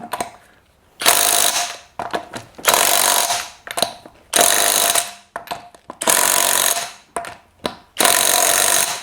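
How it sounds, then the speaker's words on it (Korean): A budget impact wrench set to its mid torque level hammers in repeated loud bursts of roughly a second each, with short pauses between them and no speech. "미드 토크로 쪼고 임팩 렌치로 한번 풀어보겠습니다"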